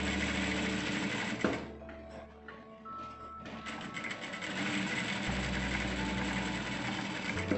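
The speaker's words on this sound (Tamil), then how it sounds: "அது மேலேயே நம்ம இது ரெண்டையும் வச்சு தைக்க போகிறோம்." A sewing machine stitches blouse fabric along a marked neckline, running in a close, steady mechanical whir with a brief pause and a click near the start before continuing evenly, no voices.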